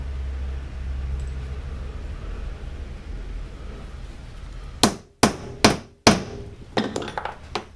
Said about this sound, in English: Couple of good whacks, and I've got that perfectly flat now.